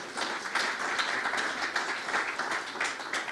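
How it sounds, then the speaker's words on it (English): An audience applauds after a poetry reading at a community event, with steady, dense clapping from many hands, moderately loud and continuous throughout, without talk over it. "the applause really makes my heart leap"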